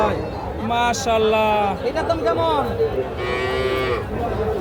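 A cow moos loudly and repeatedly, long drawn-out calls up close, over the chatter of a busy crowd of people talking at a cattle market in Bogura.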